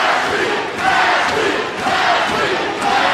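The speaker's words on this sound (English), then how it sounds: "They're all chanting for Ashlee Evans-Smith as she throws a wicked elbow." Arena crowd at an MMA event in Miami's Bank United Center roaring and chanting steadily in rising and falling waves for a female fighter, a dense, loud wall of voices with no break.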